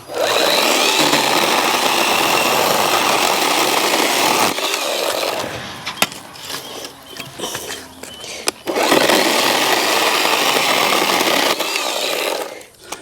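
A chainsaw runs loudly, buzzing at full power while cutting up timber, easing off in the middle with clunks and knocks, then roaring again.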